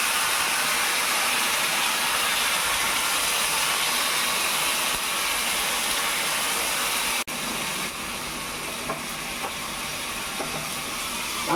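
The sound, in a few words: curry boiling in a pot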